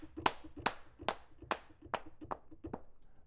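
Sampled handclaps from a Kontakt clap instrument, about seven sharp claps in a steady rhythm with short ringing tails, the later ones a little softer.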